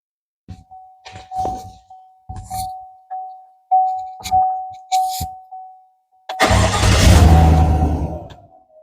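A 2020 GM 1500 4x4 pickup chimes repeatedly on its dash, about eight loud dings at an even rhythm. Then the engine cranks and starts with a close, rising roar that settles toward idle.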